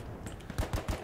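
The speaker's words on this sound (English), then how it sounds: "We need to destroy the fucking MG." Machine gun fire in Hell Let Loose, a World War II shooter, with a few quick bursts of thumping shots in the second half of a brief moment of battle noise.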